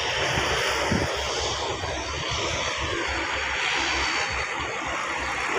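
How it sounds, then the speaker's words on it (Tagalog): Near a beach by an airport runway, an airplane's engines roar steadily as it starts up before takeoff, a loud continuous drone with wind noise and no talk. "dito yan nag-i-start yung aeroplano bago lumipad"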